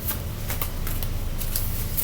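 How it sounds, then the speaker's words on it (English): A deck of cards is shuffled repeatedly during a tarot-style reading, with riffling bursts at a steady rhythm, close and clear, with no talking over it. "Try to shuffle these cards so we can get some good, clear, new, accurate messages."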